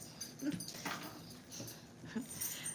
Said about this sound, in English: Now you've got the big dog worried.